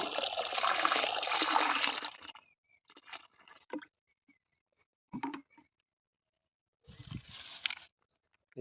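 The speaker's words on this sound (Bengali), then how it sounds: "জলটা দেখুন এই যে এরকম টিপ টিপ করতেছে এখন" Water from a plant-spraying motor drips and trickles in a few short bursts separated by quiet gaps, following a longer continuous splashing pour at the start.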